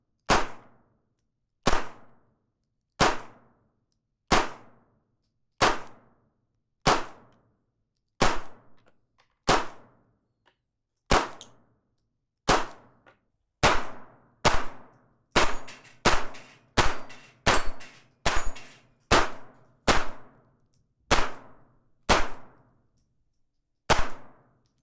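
A Springfield Armory Hellcat pistol in .380 ACP fired at a range: about twenty sharp, loud shots with short decaying echoes, spaced evenly at first, then a quicker burst of closely spaced shots before slowing again.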